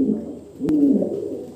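A pigeon coos close by, a single low throaty rolling call rising then settling, with a brief sharp knock in the middle of it.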